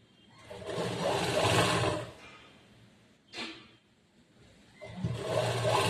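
A sewing machine straight-stitches a salwar pant seam in two close bursts of motor whir separated by a pause with a brief sharp mechanical sound, then the run starts again.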